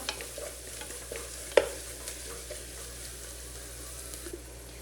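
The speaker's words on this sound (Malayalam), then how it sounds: "ഉള്ളിയും പച്ചമുളകും ഒന്ന് വെളിച്ചെണ്ണ കിടന്ന് കുറച്ചൊക്കെ ഒന്ന് മൂത്ത് വെന്തിട്ടുണ്ട് കേട്ടോ" Onions and green chillies sauté in coconut oil for a liver fry, heard as a soft, steady sizzle with frequent close stirring strokes and one sharp clink of a utensil partway through, with no talking.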